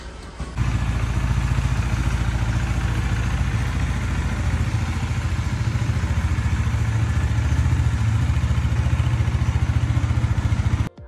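A motorcycle engine idles steadily up close on a factory's private road near Hampta village outside Manali, a continuous low, thumping rumble with clattery texture running unbroken for about ten seconds, with no talk over it.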